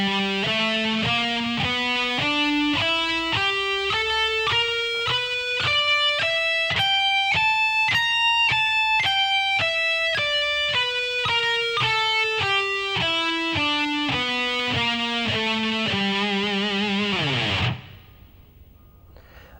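An electric guitar playing a blues scale with the flat 5, individual notes picked slowly and evenly, climbing high up the neck and back down, ending on a low note that cuts off into near silence.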